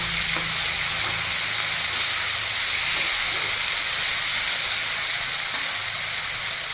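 Chili chicken sizzling in a frying pan while being stirred, a steady loud hiss of frying oil with faint scraping throughout.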